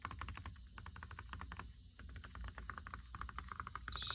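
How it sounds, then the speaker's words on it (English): Keys on a replacement keyboard fitted to a 2016/2017 13-inch MacBook Pro A1708 being pressed down one after another, a close, quick run of soft clicking taps with brief pauses, heard alone. "pushing this keyboard down"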